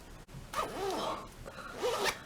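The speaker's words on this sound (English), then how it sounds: "Did I buy it with a bad zipper?" A zipper on an old LL Bean wool-blend coat is pulled in short, scratchy, rasping strokes, close and fairly loud, with a couple of separate bursts and no talking.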